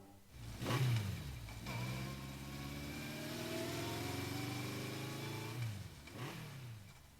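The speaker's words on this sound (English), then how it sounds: "She took off on her motorcycle." A motorcycle in the visual novel Steins;Gate 0 starts up and accelerates away, its engine rising through a long climbing rev with gear shifts, loud at first and fading slightly at the end.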